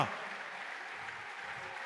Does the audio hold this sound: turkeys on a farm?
no